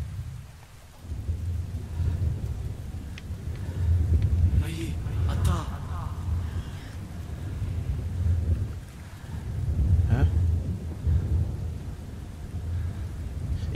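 Thunderstorm in the video game Brothers: A Tale of Two Sons: steady heavy rain hisses throughout while deep rolling thunder rumbles swell and fade, with a voice talking over the storm.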